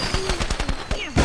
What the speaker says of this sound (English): We're letting off all kinds of fireworks.